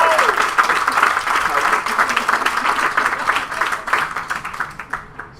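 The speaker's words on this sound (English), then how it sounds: "So please give him a round of applause." Wedding guests applauding, a sustained, dense wash of clapping from a crowd that holds steady and then begins to thin out toward the end, with some voices mixed in.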